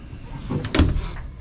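A drawer in the cabin of a 30-foot Duckworth offshore boat slides open once with a short rolling scrape and soft knock, close by, over a quiet room.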